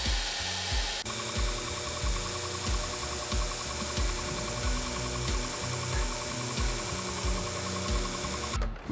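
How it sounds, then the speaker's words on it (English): A 2x72 belt grinder grinds a forged steel Bowie knife blade, a loud continuous abrasive hum and rasp with rhythmic strokes as the blade is worked, then cuts off at the end. "After tempering, I'll take it over to my 2x72 grinder, and we'll get this thing ground from 60 grit all the way up to 320 grit."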